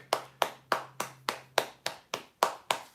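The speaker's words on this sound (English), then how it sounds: "Can I get a round of applause for that?" Ten evenly spaced hand claps from one person, close and fairly loud with a steady rhythm, celebrating passing 7,000 subscribers during a Saturday Q&A livestream.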